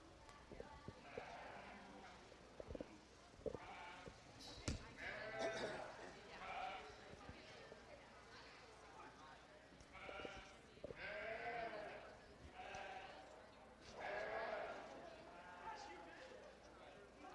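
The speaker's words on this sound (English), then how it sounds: "To the east side of the ring is Gage Sesker and his three purchased lambs." Sheep and lambs bleat repeatedly in a county fair sheep show ring, the calls overlapping and fairly close, while an announcer speaks over a PA throughout.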